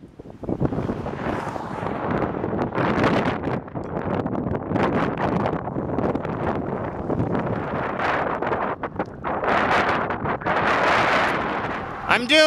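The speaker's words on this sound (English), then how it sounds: "And there's the wind." Strong wind buffets the microphone while cycling fast northward with a tailwind, a loud continuous rushing roar that surges and drops, with a brief sharp burst at the very end.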